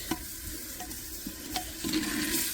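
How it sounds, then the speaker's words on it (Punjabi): Quiet hissing and bubbling as a little water hits a hot, frying spice mixture for dal, with a few faint clicks along the way. "ਥੋੜਾ ਜਿਹਾ ਪਾਣੀ ਪਾ ਕੇ ਮਸਾਲਾ ਹੋਰ ਭੁੰਨ ਲੈਣਾ"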